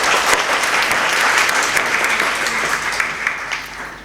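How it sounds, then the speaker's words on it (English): A conference audience breaks into steady, dense applause that holds for several seconds, loud and close, with no voices on top. "Can we put our hands together to give him a clap?"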